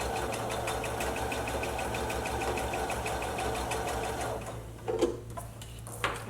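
A sewing machine stitching a Christmas stocking, running in a steady, fast rhythmic whir for about four and a half seconds, close, then stopping to quiet handling clicks.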